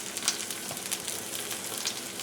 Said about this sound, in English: it's just going to sit here and sizzle.